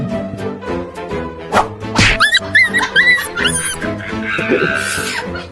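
A few sharp, high dog barks and yips arrive in a quick cluster midway, over a steady tonal background.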